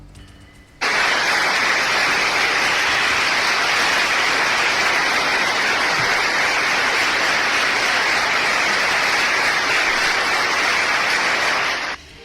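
Colleagues applaud Spain's attorney general Álvaro García Ortiz at the prosecutor's office, a sudden, loud, dense burst of sustained clapping that starts abruptly, holds steady for about eleven seconds, then cuts off.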